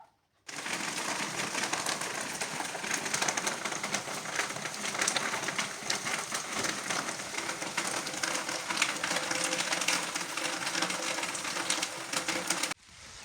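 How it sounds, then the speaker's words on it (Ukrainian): Steady, dense hiss of rain falls continuously, even and unbroken, starting abruptly and cutting off at the end. "А сьогодні в нас дощ."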